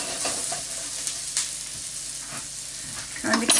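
Onions sizzling as they fry in a pan, a steady dense hiss close to the mic with faint stirring scrapes and a louder crackle near the end.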